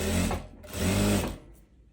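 A sewing machine stitches the seams of a light, loose summer dress, running in two loud, close bursts of rapid mechanical whirring separated by a brief pause, then slowing to a quieter hum.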